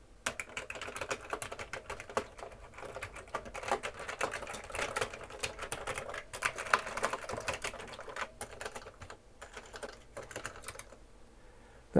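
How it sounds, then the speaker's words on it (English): Rapid, irregular clicking of keys being typed on a Commodore 128 computer keyboard, close and steady for most of the stretch, thinning out near the end with no talking. "Let's try the keyboard."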